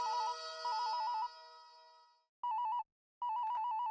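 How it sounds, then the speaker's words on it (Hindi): A telephone ringing late at night in a residential building: an electronic ringtone pulses in repeated bursts, alone and fairly clear, with short gaps between rings. "इतनी रात को किसका फोन है?"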